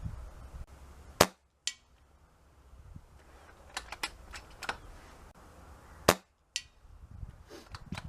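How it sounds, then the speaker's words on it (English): Two sharp rifle shots fired at a target on a range, each a loud, abrupt crack about five seconds apart, with quieter clicks and handling noises of the rifle between them and no talk. "First shot I'll be aiming dead centre."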